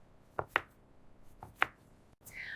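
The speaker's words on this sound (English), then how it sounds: "Cut the dough into small equal pieces for consistent wrappers." A knife chops taro dumpling dough into small pieces on a board, four quiet, crisp taps in an uneven rhythm, close by and with no talking.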